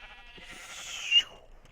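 A single sheep in the video game Minecraft gives one wavering bleat of about a second, clear and close against a quiet background.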